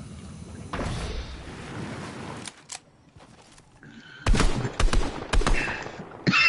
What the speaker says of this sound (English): Who dares shoot behind me?